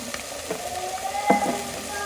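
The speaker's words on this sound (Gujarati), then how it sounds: "આપણે આને તેલની અંદર શેકી લઈશું" Food frying in hot oil in a pan gives a steady, fairly quiet sizzle and crackle, with a brief clatter of stirring around the middle and no voices.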